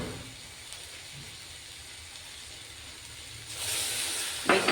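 Water poured into a hot pan of paneer bhurji with soy sauce sets off a sudden hiss after a quiet stretch, swelling louder in a second burst at the end.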